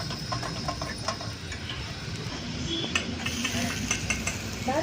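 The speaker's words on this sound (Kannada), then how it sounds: "ಈಗ ಇದ್ರ ಮೇಲೆ ಒಂದು ಸ್ವಲ್ಪ ಬೆಣ್ಣೆ ಹಾಕ್ಕೊಂಡು ಫ್ರೈ ಮಾಡ್ಕೊಳ್ಳೋಣ." A sandwich fries in butter on a pan with a soft, steady sizzle, punctuated by light scraping and clinks of a utensil.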